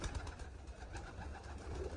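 Pigeons at a farm loft give faint, low cooing and soft fluttering as they fly inside, quiet and steady throughout with no talk.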